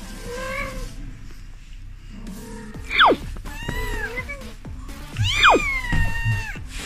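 A newborn kitten cries in thin, high mews while adult cats meow and yowl in long sliding calls, several overlapping cries close by and fairly loud.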